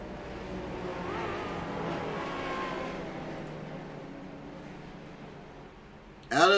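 Race cars circling behind a pace car at Hickory during a Legends heat, a continuous engine rumble that swells and slowly fades, ending with a brief louder burst.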